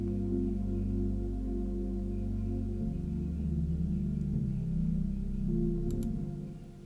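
Sustained synth pad with no EQ applied, a dull, bass-heavy chord texture shifting around the middle and continuing steadily at even loudness, fading slightly at the end.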